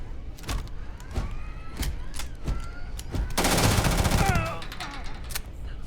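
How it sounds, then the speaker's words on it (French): Gunfire in the video game Starfield: sharp single shots crack at irregular intervals, then a dense rapid-fire burst rattles for about a second before the scattered shots resume. "Je suis sous les tirs."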